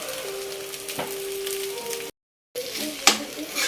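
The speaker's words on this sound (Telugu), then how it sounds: "అంతా కలిసేటట్టు కలుపుకోవాలి" Cooked vegetable rice being stirred with salt in a pan, a soft scraping and sizzling texture with a brief sharp clink, a sustained tone in the first half and a short silent gap midway.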